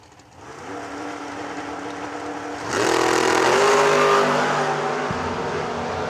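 Drag race cars roar off the line and accelerate down the strip, a steady engine drone that jumps to a louder, harsher blast partway through and then tapers slightly.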